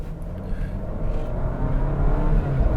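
A Volvo XC40 compact SUV accelerating in dynamic mode, a low steady engine drone that slowly builds in loudness, heard from inside without talk.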